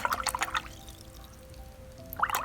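A round watercolour brush, fresh out of its plastic cover, is dipped into water to rinse off its protective coating, giving brief soft splashing and dribbling sounds at the start and again at the end, with a quiet pause between.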